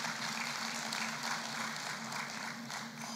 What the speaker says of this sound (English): I think Ghulam deserves another wonderful round of applause.